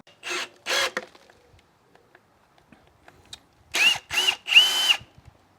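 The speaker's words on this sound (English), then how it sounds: "I'm going to drill these and chainsaw these" A power drill whirs in short bursts while boring into pile supports for a garden room base outdoors, two brief runs, then a pause, then three more close, moderately loud bursts.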